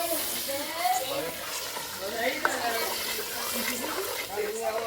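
Pav bhaji vegetables and masala being stirred in a frying pan, a continuous scraping, sizzling texture with soft clinks, close up, with a voice speaking over it.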